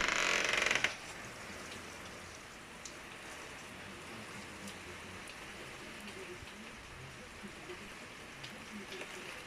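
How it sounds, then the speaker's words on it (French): Steady rain falls as a continuous soft hiss with scattered drops, an even wash of sound after a brief louder burst at the start, with no talk. "J'en ai marre de ce temps de la pluie, pluie, pluie, pluie"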